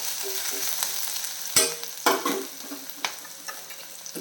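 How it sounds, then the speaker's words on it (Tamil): Green chilies, garlic and ginger sauté in a pan over low flame, with a soft sizzle under several sharp, close stirring scrapes and clinks. "பச்சை மிளகாய் எல்லாமே சேர்த்துடலாம். ஃப்ளேம் கம்மி பண்ணி வச்சுக்கோங்க. கொஞ்சம் வதங்கட்டும்."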